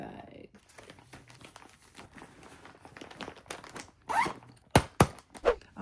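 A Ziploc plastic bag is handled during late-night packing, producing soft crinkles and rustles that build into a few sharper, louder crackling bursts toward the end, with quiet background sound.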